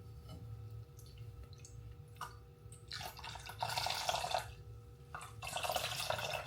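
Elderflower and pineapple juice dripping and trickling from a squeezed muslin cloth, a close, wet patter that swells into steadier splashing streams in bursts toward the end.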